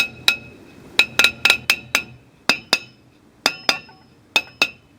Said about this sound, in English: we're going to hit the drum brakes with a hammer